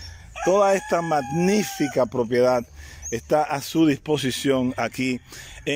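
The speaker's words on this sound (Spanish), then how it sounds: "Oigan cómo se escuchan los gallos cantando" Roosters crowing on a rural farm estate with a cacao plantation, repeated cock-a-doodle-doo calls ringing out close and clear, overlapping with someone speaking Spanish throughout.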